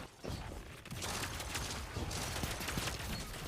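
Rapid bursts of sidearm fire from the Final Warning exotic in Destiny 2, a dense, continuous volley of sharp shots running for several seconds with no talk over it.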